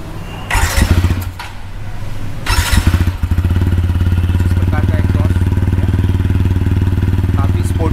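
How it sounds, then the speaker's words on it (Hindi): A TVS Apache RTR 160 4V motorcycle, 2023 Special Edition, starts up with a couple of loud revs, then settles into a steady, close, throbbing idle that runs to the end. "तो एक बार मैं आपको एग्जॉस्ट नोट सुना देता हूँ"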